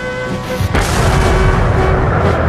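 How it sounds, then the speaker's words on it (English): Cannon barrage from massed artillery in a Battle of Waterloo reenactment, a loud continuous rumbling roar of booming guns, dense and close, with no speech. "Napoleon ordered a barrage of his most powerful cannon. 74 guns steadily lobbing cannonballs at Wellington's center."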